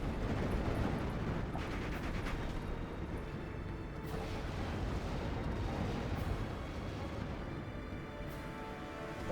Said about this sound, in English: Those are some fun looking explosions.